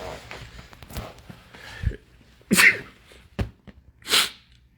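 Two sharp, close sneezes from a man, spaced about a second and a half apart, with soft breathing and small handling noises between them.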